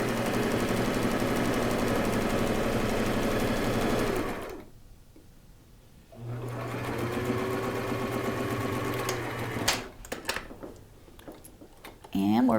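A sewing machine runs a straight stitch on turban fabric with a steady mechanical whir. It pauses briefly, starts again, then stops, and a person talks over and between the stitching runs.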